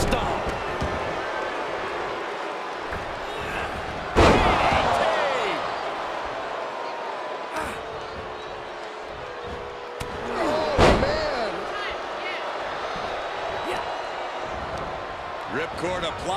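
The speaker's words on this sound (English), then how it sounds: "Double stomp." Wrestling impacts thud through a WWE 2K23 match in the NXT Cruiserweight tournament, with a couple of sharp, heavy slams standing out against steady crowd roar and running commentary throughout.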